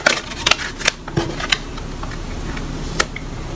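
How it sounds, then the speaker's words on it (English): Tarot cards shuffled by hand, quick papery riffles and soft taps in irregular bursts, close and fairly quiet with no talking. "it looks like I need to shuffle them"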